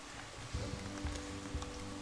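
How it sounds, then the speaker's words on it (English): Outdoor rain in England patters softly and steadily with a faint hiss, accompanied by low rhythmic thumps and a quiet hum. "It started raining."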